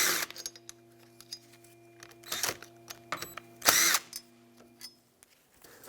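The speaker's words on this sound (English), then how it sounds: "with a T30 Torx bit, you can undo these two" A power tool fitted with a T30 Torx bit backs out two bolts on a 2001-2007 Toyota Highlander windshield wiper motor, heard as a few short, close whirring bursts with small metallic clinks between them.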